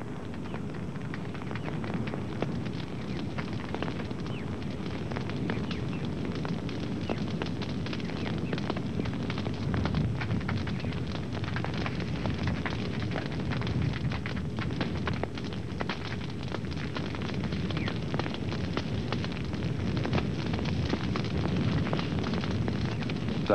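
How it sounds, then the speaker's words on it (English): A hill fire blazes through trees, a steady dense roar with crackling pops running evenly throughout at close range, with no voices. "hill fires often blaze out of control, threatening property as well as wildlife."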